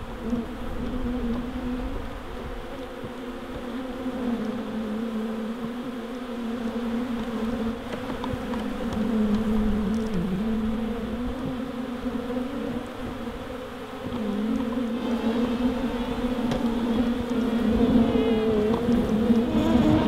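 An agitated honeybee swarm buzzes loudly and continuously at close range while being transferred into a top bar hive converted from a fridge, the dense hum rising and falling with no talk.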